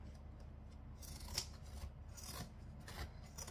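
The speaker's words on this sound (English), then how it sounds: "The reason I like these scissors so much is because they open themselves up again. They're spring loaded" Spring-loaded sewing scissors snip thread with a few soft crisp cuts and light rubbing, close up and quiet, with no talking.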